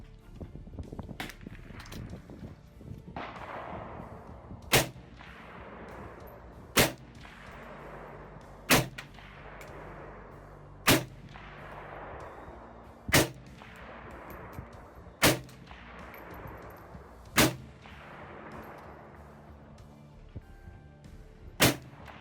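Yugoslavian M59 SKS rifle fired in Escape from Tarkov, about ten sharp, loud single shots spaced roughly two seconds apart, each followed by a long echoing tail that fades before the next.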